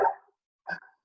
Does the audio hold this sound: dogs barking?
yes